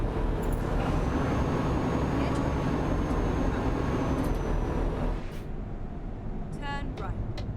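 Truck engine in Euro Truck Simulator 2, a steady low rumbling drone with road noise for about five seconds before it softens, ending with a few short electronic beeps.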